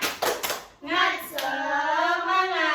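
Classroom children doing a rhythmic clapping chant: a few quick sharp claps open, then young voices sing out a drawn-out chanted word together, close and loud.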